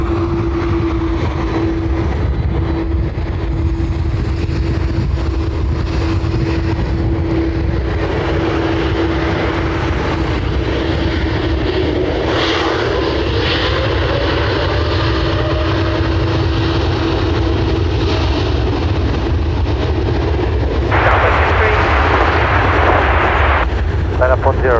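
TUI airliner at Dublin Airport, a sustained engine rumble with a steady whine that gradually builds and shifts, voices talking over it and a brief louder burst near the end.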